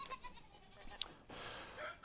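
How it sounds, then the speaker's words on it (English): Goats bleat on a farm, a few short wavering calls nearby, one sharper cry standing out amid quiet background noise. "We have two baby goats that were born yesterday"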